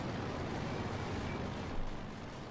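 A field gun fires in Company of Heroes 2 amid a dense, continuous battle din of rumbling gunfire. The shots blend into the noise without a clear separate blast.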